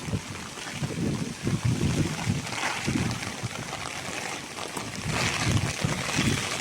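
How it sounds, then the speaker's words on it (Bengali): Gusty wind and rain sweep across a rooftop garden, with buffeting wind roaring against the microphone in uneven surges and a steady wash of rainfall beneath. "ছাতা উড়ায় নিয়ে যাইতেছে বৃষ্টিতে।"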